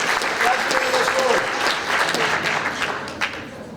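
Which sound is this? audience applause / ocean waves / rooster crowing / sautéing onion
audience applause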